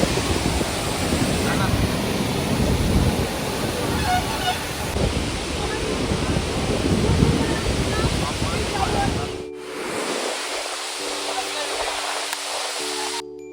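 Torrent of water at Srisailam gushing and spraying high, heard as a loud, dense roar for about nine seconds before it abruptly falls away to a quieter background with faint tonal hum.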